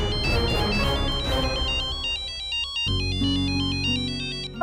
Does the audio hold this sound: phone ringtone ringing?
yes